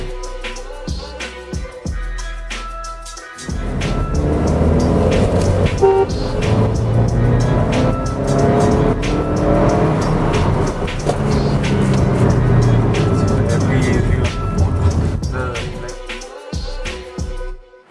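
A Volkswagen Polo GT TSI is driven on the road during a data-logging run. A steady drive rumble builds after a quiet start, with scattered clicks and knocks, then fades near the end.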